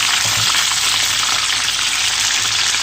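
Steady, loud, close sizzling of potatoes frying with pork fat (salo) in a pan, a continuous crackling hiss with faint low clatter and no talking.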